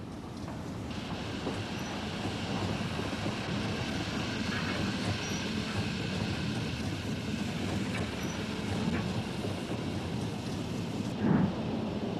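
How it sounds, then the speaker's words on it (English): The last steam-hauled passenger train into Halifax, in 1967, stops at the foot of Salter Hebble Bank to pick up a banker, a steady heavy rumble and hiss with faint squeals, continuous and moderately close, with a short bump near the end. "the last steam-hauled passenger train into Halifax stops at the foot of Salter Hebble Bank to pick up a banker"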